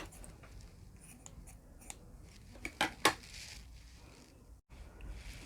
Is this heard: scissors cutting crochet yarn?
yes